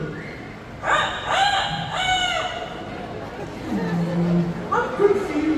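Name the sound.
rooster crowing in a bird park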